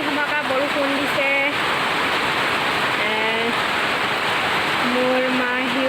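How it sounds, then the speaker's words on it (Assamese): Heavy downpour roaring steadily and loudly on a hot evening, a dense unbroken hiss with a voice talking over it in short bursts. "বহুত ধমাকা বৰষুণ দিছে।"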